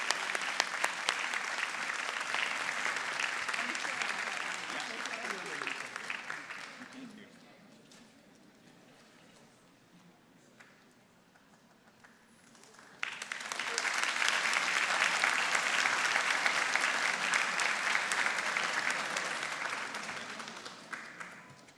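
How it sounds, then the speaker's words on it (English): Sustained applause from a large audience at a spring graduation convocation, loud and dense for several seconds, fading to a quieter lull, then swelling again into a second long, strong round of clapping. "How about one more round of applause for the graduating class of 2024."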